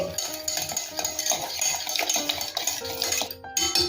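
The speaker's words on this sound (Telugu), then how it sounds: "ఇప్పుడు ఈ పెరుగుని ఇలా బాగా బీట్ చేసుకోండి" A spoon beating curd in a bowl, quick irregular scraping and clinking against the bowl, close up, with no voices.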